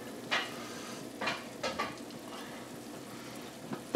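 Whitefish fries in a pan with a steady, soft sizzle, broken by a few brief louder crackles and spatters near the start. No one speaks.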